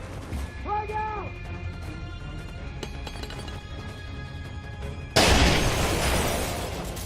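A frag grenade goes off in Splinter Cell Conviction, a sudden loud blast that drops into a wash of rumbling debris after game chatter and shouted voices.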